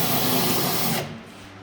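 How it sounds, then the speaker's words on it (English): A drill bores out spot welds on a car chassis during tube-frame prep for a Hellcat-swapped BMW E92, a loud, close, continuous grinding whine that stops abruptly about a second in, leaving faint shop noise. "We know he loves drilling spot welds."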